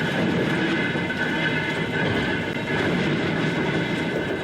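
Western Maryland Scenic Railroad steam locomotive climbing a mountain in the Alleghenies toward Frostburg, a continuous heavy rumbling roar with rattling wheels, steady and loud throughout.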